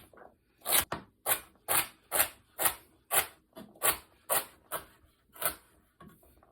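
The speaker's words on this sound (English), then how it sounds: "Now we'll dice up the celery, cutting off the ends, slicing it into more manageable chunks, cut it into strips, and then line it up to finish off the dice." A knife dices celery on a cutting board in a steady run of about a dozen crisp, evenly spaced chops, close and clear with no talk.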